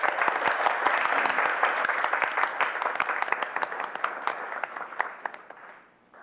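A crowd at a school board meeting claps for honorees, with sustained applause breaking into sparser individual claps before fading out at the close.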